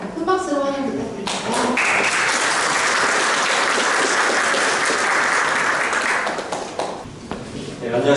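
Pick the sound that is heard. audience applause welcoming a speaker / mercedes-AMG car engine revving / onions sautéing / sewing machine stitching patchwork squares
audience applause welcoming a speaker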